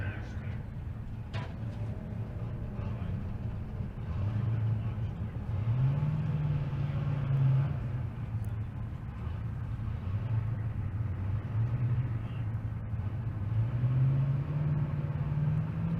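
A Nissan GTR drag racing down the strip at Bandimere, its engine rumbling low with rising and falling revs as it runs, under crowd ambience and announcer speech.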